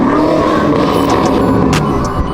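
A Hyundai Elantra N with a valvetronic exhaust roars loudly and continuously at a supercar rally, a dense, sustained engine drone close by with a few sharp crackles near the end.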